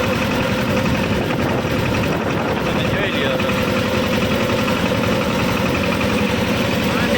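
A tractor engine idles steadily close by on a farm after rain, a continuous low rumbling drone running the whole time, with someone talking briefly over it.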